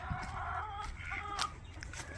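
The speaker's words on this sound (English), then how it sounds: "These people have a bunch of chickens," Chickens and roosters kept in a residential yard cluck steadily, several birds close by in short overlapping bursts, with no talk over them.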